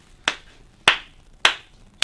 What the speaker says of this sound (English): You basically do a golf clap on both sides, the fingertips to palm